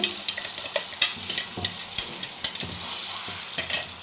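Steady oil sizzle from a close pan of tempering tomato and green chili chutney, broken by sharp scraping stirs every half second or so.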